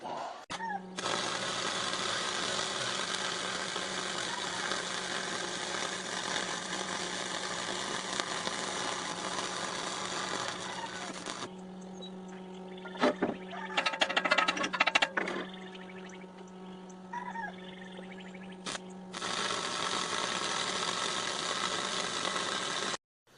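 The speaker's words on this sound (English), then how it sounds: "we're gonna weld some of it up right quick" Stick welding with 6011 AC rods gives a steady, close crackling buzz that runs unbroken for about eleven seconds, stops for a short gap filled with a few clatters, then comes back for a second long burn.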